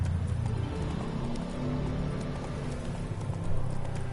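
Geralt's horse Roach galloping in The Witcher video game, with a steady, fast clip-clop of hooves close by and no talk over it.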